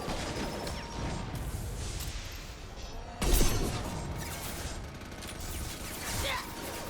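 Gunfire in Mass Effect 2 plays out as dense, continuous bursts of game shots and impacts under steady battle noise, with one louder crash partway through. A voice talks faintly underneath.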